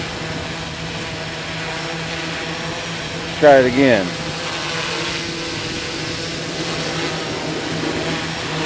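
SuperX drone motors spin up at takeoff in a short, rising whine lasting about half a second, heard over a constant hum and outdoor background while a person speaks.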